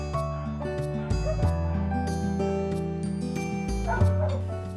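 Rescued dogs at an animal shelter in Alfonso, Cavite bark in short sharp bursts and let out whimpering yips, close and repeated, over a steady background hum.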